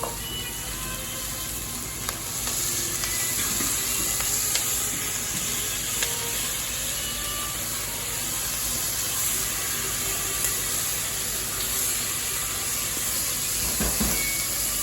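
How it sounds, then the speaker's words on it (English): Mushrooms frying on high heat in a pan for a vegetarian quiche, giving a steady, even sizzle and hiss that runs the whole time at moderate level, with no talking. "Just let the mushrooms cook a little bit."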